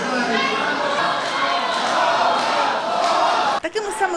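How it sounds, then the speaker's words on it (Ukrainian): Residents of Izium shout together in protest at a decision by deputies, a loud, dense crowd clamour that holds steady before breaking off abruptly near the end. "Такими саме вигуками реагують ізюмчани на рішення депутатів."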